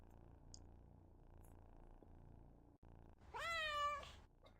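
A cat in the video game Returns Outlet Simulator gives one short, clear meow near the end after a quiet stretch with faint low hum.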